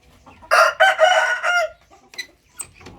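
A hen clucks loudly and close in a short burst of cackling, followed by softer scattered clucks and chicken calls in a farmyard setting.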